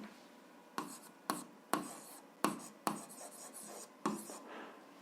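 A pen writes on paper while an algebra exercise is worked out. Seven or so short scratchy strokes come close and quiet, separated by brief pauses, with no talking.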